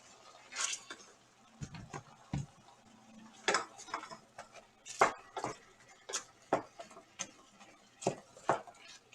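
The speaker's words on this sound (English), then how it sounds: "Now give it a good stir." Beef stew being stirred in a dish with a wooden spatula, giving soft scraping clinks and knocks of utensil against the dish in an irregular rhythm, close and moderately quiet.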